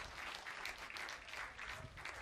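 Spectators applaud at a men's skeet shooting European Championship in Châteauroux, France, with steady, dense clapping from a crowd at moderate distance, fairly soft overall and continuing throughout without pause.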